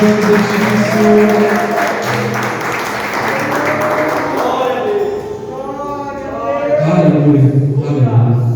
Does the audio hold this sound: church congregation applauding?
yes